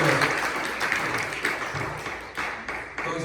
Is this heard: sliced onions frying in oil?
no